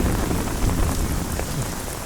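Heavy rain pours down in a city film scene at a bus stop, a dense, loud, steady patter and hiss on surfaces with no voices.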